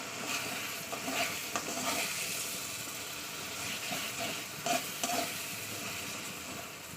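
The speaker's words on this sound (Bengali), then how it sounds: "দুটো ডিম দিয়ে ভালো করে মশলার সঙ্গে আমি কষিয়ে নেবো" Two eggs stirred with spice paste in an oily pan while cooking pumpkin and potato, giving a low, steady sizzle broken by scraping stir strokes, close by with no talking.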